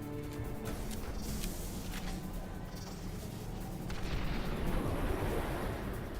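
Shotgun fire and heavy booms in the video game Quake 4 come through dense, loud and continuous, building stronger toward the end, with no talking.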